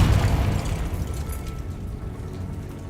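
A Confringo fire spell exploding in Hogwarts Legacy, a heavy boom right at the start that rolls off into a fading rumble.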